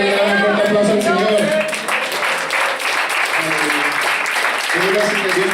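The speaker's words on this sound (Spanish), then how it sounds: "¿Cuántos pueden dar un fuerte aplauso al Señor?" Congregation at a Spanish-language church service gives loud applause that runs steadily beneath a voice calling out and singing over it.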